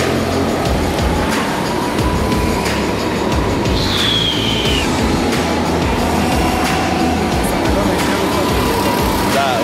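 Go-karts race around an outdoor karting track, their engines forming a steady loud drone throughout, with a brief higher whine passing near the middle and voices talking over the noise.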